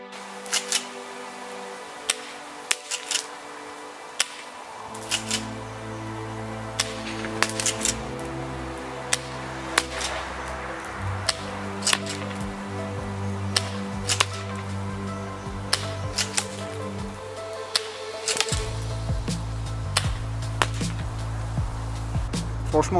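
A Tokyo Marui Kel-Tec KSG airsoft shotgun fires a string of sharp, snappy shots at irregular intervals over about twenty seconds, each a short crack, while steady background music plays underneath.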